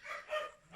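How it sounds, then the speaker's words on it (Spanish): Dogs bark a few times in short, muffled yaps, somewhat distant and fairly faint against a quiet indoor background. "Hay una disculpa si mis perros están ladrando demasiado"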